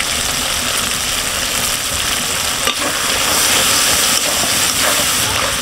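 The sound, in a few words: mutton being stir-fried (kosha) in oil for haleem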